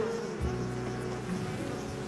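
Stingless bees hum at an open hive, a soft continuous buzz with close, faint wingbeats drifting in and out and no voices.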